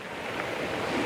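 Sea waves break and wash onto the shore with a broad, hissing roar and some wind, loud and continuous for about a second.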